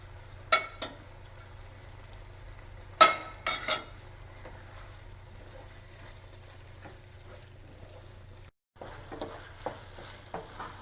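Shrimp risotto with saffron and broth being stirred in a pan, a soft steady sizzle underneath and a few sharp spoon-against-pan knocks at intervals, close and fairly quiet with no talking.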